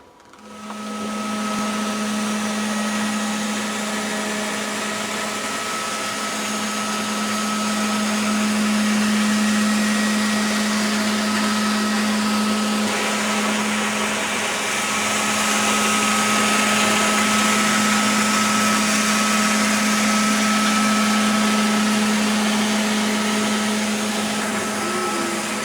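A Nilco E40/55E cable-operated scrubber dryer floor cleaning machine runs continuously with a loud, steady motor whine and suction roar, holding a constant pitch throughout with no speech.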